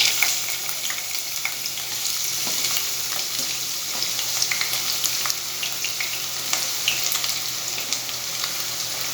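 Onion frying in a pan of hot oil, a steady close-up sizzle with fine crackles and occasional stirring clicks, continuous and even throughout without any talking.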